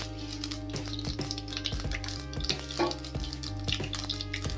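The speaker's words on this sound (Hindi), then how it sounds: "जो तड़का लगाती है ना, वो साउंड मुझे बहुत दोस्तों पसंद है।" Mustard seeds crackle and pop in hot oil for a tadka tempering, close-up irregular snaps over a steady backdrop of music.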